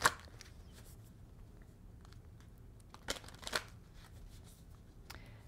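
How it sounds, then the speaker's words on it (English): Angel oracle cards being shuffled by hand during a romance-themed card reading, a quiet papery riffling and sliding with a few sharper flicks near the start and middle, close and soft. "And I'm going to pull a romance angel card for you too."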